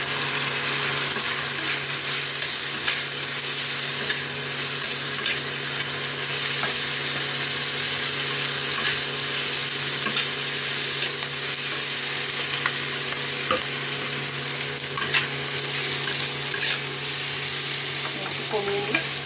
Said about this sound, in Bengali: এখন এই পাস্তাগুলো আমি আস্তে আস্তে করে ছেড়ে দেবো,